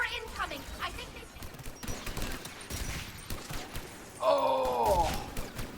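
Enemy weapons fire in Mass Effect Legendary Edition, with fast bursts of shots and a heavy blast near the end, mixed with voices speaking over the combat.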